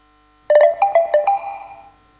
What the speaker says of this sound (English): we had to create a digital sound, much faster, but reminiscent of the notes of the mogo